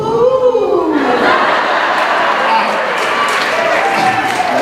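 Comedy-show audience letting out a loud, drawn-out collective ooh on cue from an emcee, a dense swell of voices that rises at once and holds for a few seconds before fading into crowd murmur.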